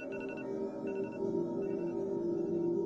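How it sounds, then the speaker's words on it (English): Phone alarm ringing in the indie horror game Home Alone, three short bursts of trilling electronic tones repeating over a steady low game ambience, no voices. "Apparently, I have a phone. No, it's my alarm."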